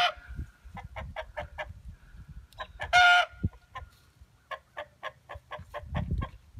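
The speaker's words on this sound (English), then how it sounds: "Why are you so afraid of the rooster?" A rooster crows loudly once amid repeated clucking and short rhythmic calls from nearby fowl, with low background rumble throughout.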